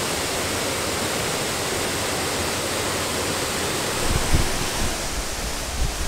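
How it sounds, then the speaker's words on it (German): Aling Aling waterfall in Bali roars as a steady, dense wash of falling water that fills the whole clip, loud and close, with a few low thumps near the end and no talking. "Ich habe noch nie so einen schönen Wasserfall gesehen"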